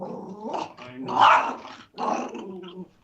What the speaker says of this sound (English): My dog thinks he runs the whole neighborhood, and if anybody walks by, he's got to give him the business